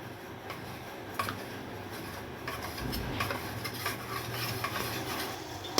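A spoon stirs custard powder into cold milk with sugar, giving soft, irregular scraping and light clinks against the bowl, close and quiet with no talking.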